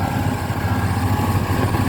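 The Isuzu six-cylinder engine of a Kobelco SK200 excavator idles nearby, a steady, loud, low rumbling throb with no voices.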